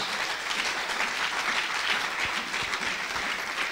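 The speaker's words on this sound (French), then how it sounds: "Vos acclamations là, c'est moi qui vous ai forcé seulement" A church congregation applauding and cheering after a sermon, a dense, continuous wash of clapping from a large crowd, loud and close, with no pauses.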